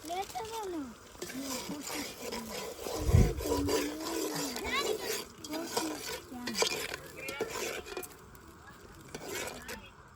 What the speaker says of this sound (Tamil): பேஸ்ட் வந்து ஒரு அஞ்சு நிமிஷம் நல்லா அப்படியே வதக்கிட்டோம்